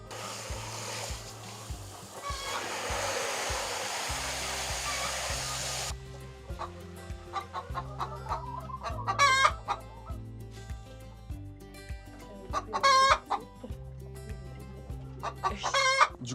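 Chickens cluck and a rooster crows in a henhouse on a farm estate during a morning egg collection, with steady clucking throughout and several loud crows rising over a rushing background noise.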